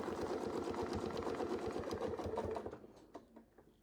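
A sewing machine stitching a quilt seam hums in a steady, rapid run of needle strokes, then stops abruptly and leaves a few faint clicks.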